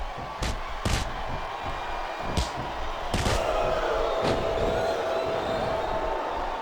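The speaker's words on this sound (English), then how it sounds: "Listen to the crowd, JR" Wrestling arena crowd cheering during a Triple H, John Cena and Undertaker match, a steady roar broken by sharp ring slams and thuds, with the cheering swelling louder in the second half.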